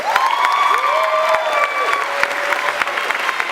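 Applause from a commencement crowd for the vice president, a steady wash of clapping heard alongside a lingering sung or sustained tone and a few louder individual claps, moderately loud throughout.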